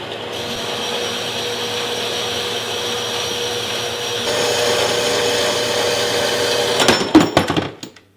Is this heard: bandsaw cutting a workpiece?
yes